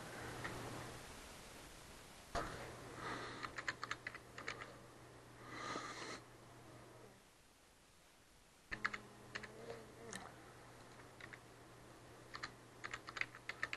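Java code being typed on a computer keyboard, with bursts of quick clicking keystrokes separated by pauses and a short silent gap, over a steady low hum.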